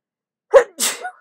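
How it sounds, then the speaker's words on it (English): A single sharp sneeze from a person at a craft desk, a quick intake followed by a loud explosive burst and a short trailing tail, close and alone with no talking. "I'm gonna sneeze."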